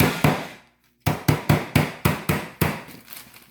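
Cheesecake ingredients pounded into small pieces by hand for a white chocolate cheesecake: a run of about nine sharp, loud, evenly spaced strikes, with a brief pause after the first two.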